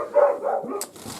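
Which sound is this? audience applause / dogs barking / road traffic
dogs barking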